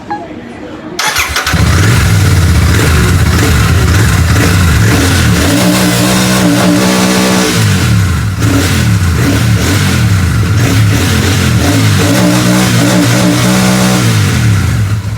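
A motorbike that had trouble starting catches and fires up after a brief click, then idles loudly close by with several rising revs and falls back to a throbbing idle.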